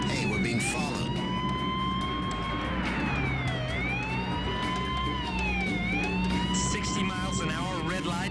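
Police car siren from a 1974 TV series, a loud wailing tone sweeping up and down in repeated cycles over road and engine noise, close by and continuous.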